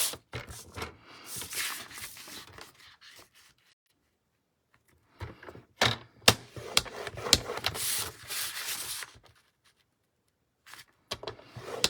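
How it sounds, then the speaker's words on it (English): A scoring blade on a paper trimmer runs along an 8.5 by 7.5 inch sheet of paper at the 2-inch mark, making several close, dry scraping strokes separated by short pauses. "I'm quickly going to score at 2 inches all the way around."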